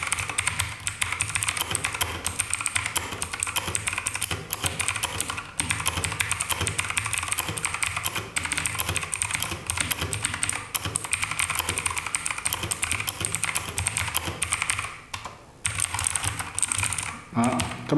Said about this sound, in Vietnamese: cái con này đang sử dụng đó là Blue Switch, cho nên sẽ là có tiếng gõ click key khá là to